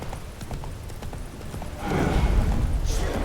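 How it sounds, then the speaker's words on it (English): A spooked horse in The Witcher 3 game, hooves clip-clopping before a sudden louder burst of agitated snorting and whinnying noise. "Spooking my horse. Roach doesn't like ghosts."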